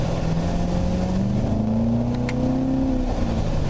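A 2015 Chevrolet Corvette's engine drones steadily as the car accelerates through a series of corners, its pitch rising and falling with throttle, loud and close with no talk over it.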